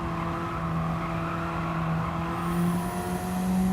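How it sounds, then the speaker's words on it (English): Race car tyres squeal steadily in Gran Turismo 7 over a droning engine note, a continuous high sustained screech rising toward the end as the car slides through a corner. "You can hear the tyres squealing."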